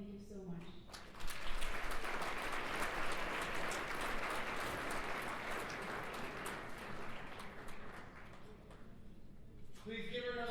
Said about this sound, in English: Please give her another round of applause,